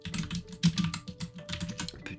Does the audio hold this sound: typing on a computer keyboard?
yes